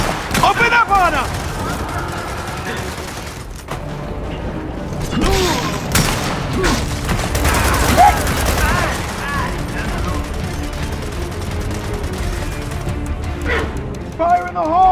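Gears of War 4 firefight, with bursts of gunfire and mechanical clatter mixed with in-game voices, loud and near across the whole stretch.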